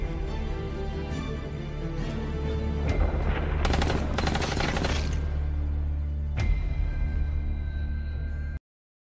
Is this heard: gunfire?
yes